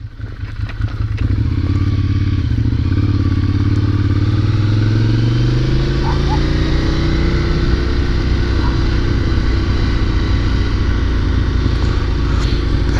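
Ducati motorcycle ridden in New York City traffic, its engine a loud, close, steady throb with rising and falling revs and wind rush around the rider, continuous and without talk.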